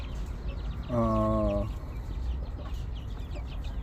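Backyard chickens being kept and fed cassava give one clear harmonic cluck or call near the start, then low farmyard background noise.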